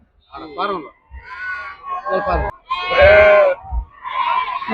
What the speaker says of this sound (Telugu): లోపల కొన్ని గొర్రెలు ఉన్నాయి